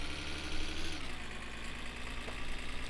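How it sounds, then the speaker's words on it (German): Car engine in the video game My Summer Car, a steady mid-pitched idle with a slight swell in revs near the start before settling back, loud and alone with no talk. "Jo, schön Motor aufheulen lassen dann losdüsen."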